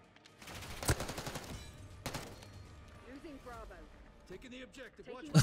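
Rapid automatic gunfire bursts in Call of Duty Black Ops 6, a fast stuttering volley followed by scattered shots, with a player talking over the game.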